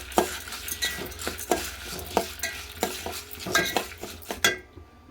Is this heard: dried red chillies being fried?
yes